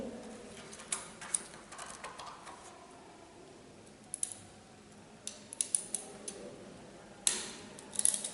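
Wire cutters snip the straightened, arranged wires of a LAN cable before they go into an RJ45 connector; several sharp, faint clicks and snips fall at irregular moments, close by, over a quiet background.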